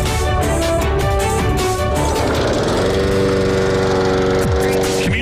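A lawn mower engine runs loud and steady in a landscaping advert for mowing, trimming, edging and blowing, a continuous close drone layered with music.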